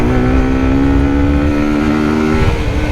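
A Daytona Dymoto 125cc single-cylinder motorcycle engine drones steadily while cruising at around 8,000 rpm, a loud, close, continuous buzz with a slight dip in pitch near the end.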